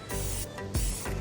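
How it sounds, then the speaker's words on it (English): Short hissing bursts of Rust-Oleum spray paint in an antique brass finish being sprayed onto a nightstand, close and loud, broken by brief pauses between passes. "So I decided to spray it with Rust-Oleum"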